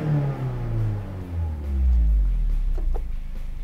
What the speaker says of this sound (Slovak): Ten dvojliter má ohromne hrdelný zvuk.